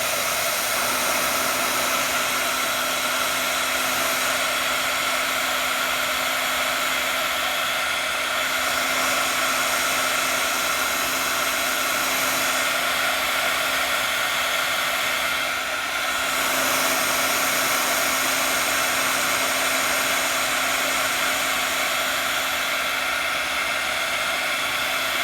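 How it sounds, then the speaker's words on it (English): A heat tool runs steadily for about twenty-five seconds, drying and heat-setting washable marker ink on a card, with a loud, constant whirring blower hiss and a steady hum underneath, and no voices. "I'm going to go ahead and heat set that"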